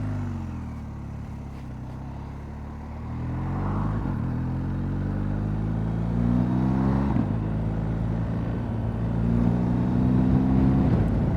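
A BMW R1250 GS Trophy motorcycle rides steadily with a low boxer-engine drone whose pitch rises and falls through gear changes, growing louder midway and continuing without talk.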